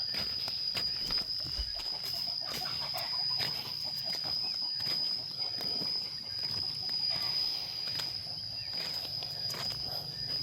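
Chickens clucking in an outdoor rural setting, a steady murmur of soft clucks and footsteps under constant ambient noise with a high insect-like whine, moderately distant.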